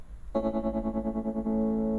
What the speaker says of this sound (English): just a little tremolo.